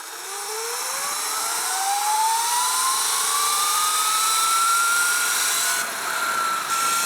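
KO F-Spec electric motor and controller on a Sur Ron Light Bee electric dirt bike winding up under throttle, a rising whine that climbs steadily in pitch over several seconds and holds loud, then dips briefly near the end.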